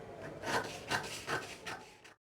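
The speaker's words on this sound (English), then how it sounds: "So I will now cut it out." Jacket fabric being cut, with four evenly spaced rasping strokes that sound close and clear, then a sudden stop.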